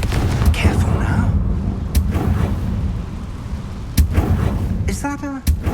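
A Confringo blast spell fired in the Hogwarts Legacy video game, with sharp explosive bursts punching over a constant battle rumble and a brief tonal magical whoosh near the end.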